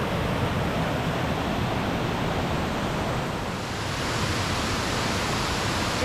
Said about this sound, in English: Mae Ya Waterfall, south of Chaing Mai.